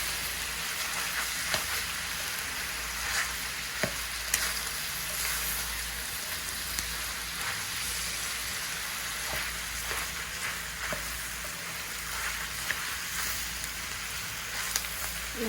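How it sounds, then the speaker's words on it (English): Adobo sa asin fries in a pan while being stirred now and then, a moderate, continuous sizzle with occasional soft scrapes and taps of the utensil. "we're just continuing to occasionally stir it."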